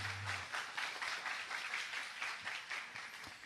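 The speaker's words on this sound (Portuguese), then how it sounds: "Uma salva de palmas aos 3 painelistas" At a panel on biblical readings in the Reformation, the audience gives the three panelists a round of applause, a steady, moderately distant wash of clapping that fades slightly toward the end.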